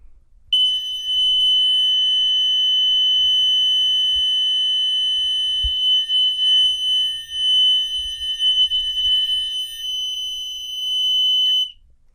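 A school fire alarm system under test sounds one steady, loud, high electronic tone continuously for about eleven seconds, alone, with only faint low thumps beneath it.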